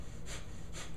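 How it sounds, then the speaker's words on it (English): Breath of fire yoga breathing, rapid forceful panting through the nose driven from the navel, with two soft hissing exhalations close up over a steady background. "begin breath of fire, which you're going to breathe like a dog, panting, okay, from the navel center"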